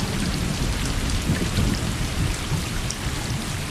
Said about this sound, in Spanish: Y está lloviendo.